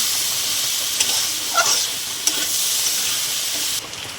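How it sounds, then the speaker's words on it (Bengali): Washed dal is stirred in a pot with spices for Gobindobhog rice khichuri, a continuous loud sizzle and hiss with a few soft scrapes and clinks of the spoon, no talking. "ডালটা ধুয়ে রাখা ছিল, দিয়ে দিলাম। ভালো করে নেড়ে নেব।"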